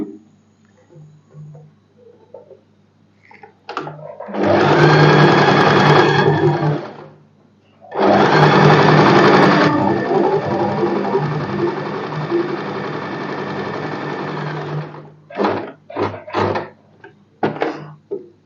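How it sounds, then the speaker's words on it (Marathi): Sewing machine stitching a padded princess-cut blouse: two loud, close bursts of rapid whirring run, separated by a pause, with light clicks and handling noises around them. "दाब शिलाई मारून झाल्यावर मी इथूनच कंटिन्यू खाली घेते"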